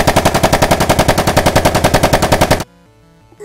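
Rapid cartoon machine-gun fire rattles in a loud, fast, even burst for about two and a half seconds, then cuts off abruptly to near silence.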